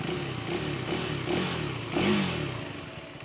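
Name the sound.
KTM 390 Duke motorcycle underbelly exhaust note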